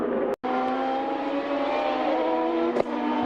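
An IndyCar race car engine drones loudly and steadily on the track at high revs, holding a sustained high-pitched whine with a brief dropout near the start and a short burst late on.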